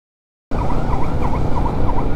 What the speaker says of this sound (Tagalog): Yan po yan po pag may mga ganyang ambulansya, distansya po tayo dyan